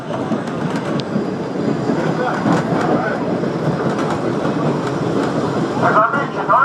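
A train runs along a railroad line near a crossing, a loud steady rumble with rhythmic clacking of wheels over the track, heard close by, with brief faint voices near the end.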